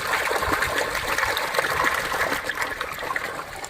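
Water from a well pump gushes steadily into a well, a dense, close, continuous rushing splash with no talking over it.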